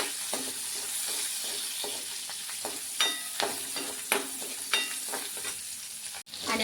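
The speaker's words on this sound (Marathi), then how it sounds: "लसूण, आलं आणि 2 हिरव्या मिरच्या म्हणजे कट केल्या. आता चांगलं भाजून घेऊया." Garlic, ginger and green chillies fry in a pan for a spicy ridge gourd masala curry, sizzling steadily up close, with sharp spoon scrapes and taps stirring through it and no talk.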